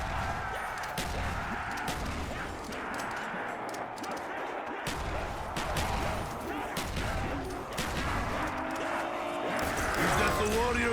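Grenade explosions spammed in a zombies video game boom and crackle in dense overlapping bursts over a continuous din of game gunfire and chaos, moderately loud for the whole stretch with players talking through it.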